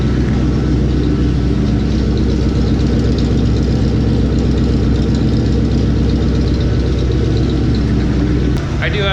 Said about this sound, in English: I do actually think that sounds better with there's 5 feet of pipe on the back of those glass packs